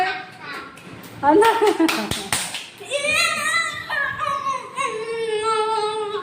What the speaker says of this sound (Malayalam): ഒരു ക്ലാപ്പ് കൊടുക്കൂ ഒരു ക്ലാപ്പ് കൊടുക്ക്